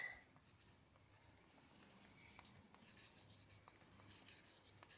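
Pen scratching out a fraction answer by hand during a class 7 maths lesson, soft intermittent strokes and light taps, faint and close, with no talking over it.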